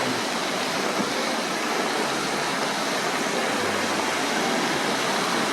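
Rain falls over waves washing onto Gwangalli beach, a dense, steady broadband hiss with low surf rumbling underneath, continuous and fairly near, with no voices.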